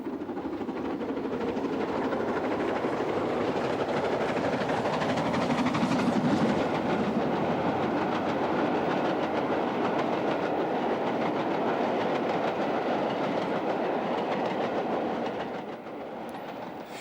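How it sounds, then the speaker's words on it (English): An LMS Stanier Pacific steam locomotive hauls a northbound train on the West Coast main line, a steady loud rumble with rhythmic wheel clatter sustained throughout, easing slightly at the very end. "Back on the West Coast main line, an unidentified Pacific heads north."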